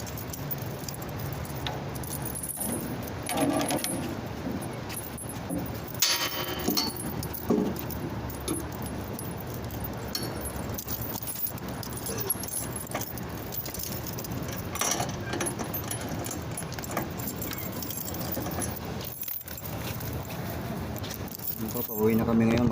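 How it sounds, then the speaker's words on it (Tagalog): A set of keys jangles and rattles as it is pulled out, in short metallic bursts scattered through ongoing nearby talking and background noise. "Tanggalin na ang susi."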